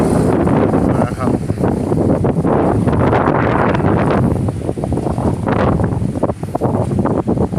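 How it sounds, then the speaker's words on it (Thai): Very strong storm wind roaring and buffeting the microphone in a loud, continuous, close rush with gusty surges, and nothing else clearly audible. "ลมแรงมาก"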